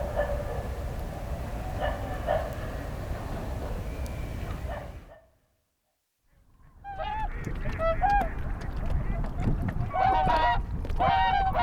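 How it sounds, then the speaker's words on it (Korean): Whooper swans at Suncheon Bay, a male driving off a stray male, honking repeatedly in loud nasal bursts, with a brief silent gap midway before the calls resume, layered and close. "떠돌이 수컷 큰고니가 접근하자 아빠 큰고니가 혼찌검을 내줍니다."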